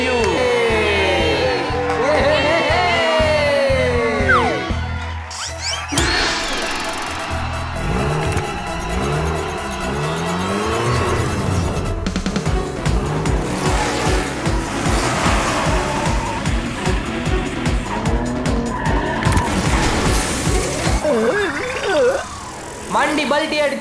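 Cartoon race car engines whine and rev loudly, with repeated screeching tire squeals and skids as a car flips during a kids' animated race, dense, close and continuous alongside music and voices.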